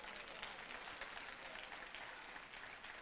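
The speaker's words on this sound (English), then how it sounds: "Give the Lord a clap offering." A church congregation gives a faint, steady round of applause as a clap offering during a sermon, sounding distant and continuous for a few seconds.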